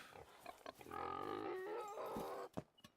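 Wild boar in theHunter: Call of the Wild, Scotland map, lets out a low drawn-out grunting growl lasting a couple of seconds, fairly close, with short snorts before and after and no talking.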